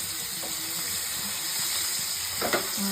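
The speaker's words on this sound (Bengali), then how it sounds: "মাছটা 4 পিস দিয়ে দিচ্ছি। 2 ভাগে আমি ভেজে নেব মাছটা।" Pieces of fish frying in hot oil make a constant hiss and sizzle, close and even, with a brief sharper splutter near the end.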